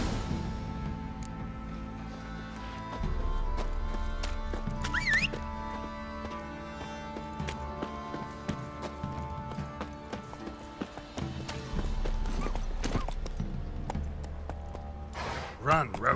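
Roach, the horse in The Witcher game, gallops in a steady clip-clop rhythm under ambient game sound, with some speech and other game noises mixed in.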